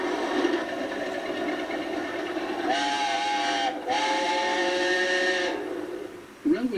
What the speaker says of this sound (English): Glickling Hall has a much deeper whistle now